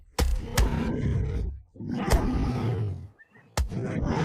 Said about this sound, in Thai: เสือถอยทีละก้าว หูตั้งคำราม